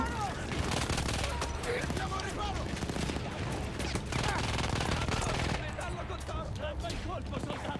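Dense, continuous gunfire from the video game Battlefield 1, rapid bursts and overlapping shots forming a loud battlefield fusillade throughout, with voices in the mix.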